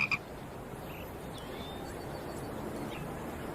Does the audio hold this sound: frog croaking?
yes